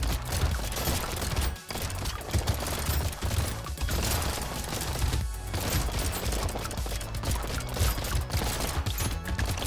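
Rapid, dense gunfire from the dragon gun in the video game Brotato, a continuous loud barrage of overlapping shots with brief dips, no voices.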